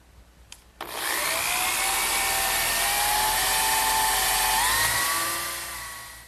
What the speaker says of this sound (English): I'm going to drill a 3/8 inch diameter, but not quite all the way through